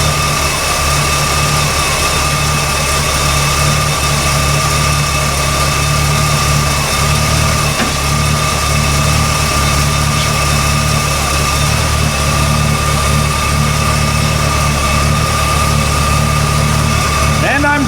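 An Oldsmobile 442 engine idling steadily with the alternator charging, a loud, constant rumble with a droning hum and no change in pace for the full duration.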